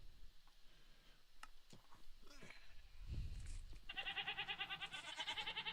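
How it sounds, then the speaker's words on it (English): Goats bleat in the Minecraft video game, a wavering, trembling bleat near the end, rising above quiet game ambience and soft clicks. "No, stay away from you bastard goats."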